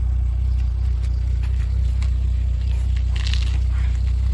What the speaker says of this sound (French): Belle sortie d'échappement.